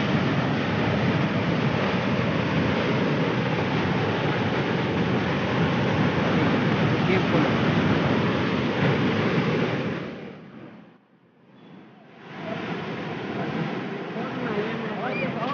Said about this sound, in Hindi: पानी गिर रहा है पानी डैम को खोल दिया है